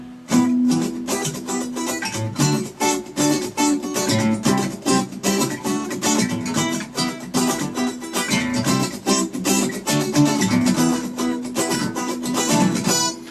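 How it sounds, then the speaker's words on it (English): Fast, rhythmic guitar strumming mixes ringing chords with choppy, percussive muted strokes, played continuously and close up with no talking. "let's take a look at how this pattern will sound with the muting effects."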